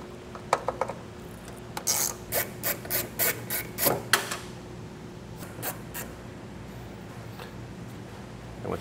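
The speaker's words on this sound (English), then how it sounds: "In order to route the wiring from underneath up to this area, we're going to have to pull the tail light out. That's going to be 2 T15 torque screws." Two T15 Torx screws are backed out of a tail light on a 2023 Chevrolet truck, heard as a close series of short rasping, ratcheting scrapes in a quick run, then a few sparse clicks before quiet.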